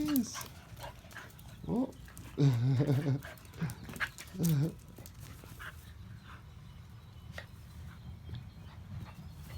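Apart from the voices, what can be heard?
dog whimpering and panting, puppy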